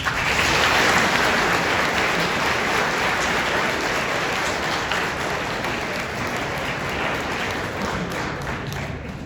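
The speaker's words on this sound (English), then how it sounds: "Students, let's give them a warm round of applause." Students in the audience at a candidates meeting at St. James give a warm round of applause, a dense, loud, steady wash of many hands clapping that carries on for several seconds.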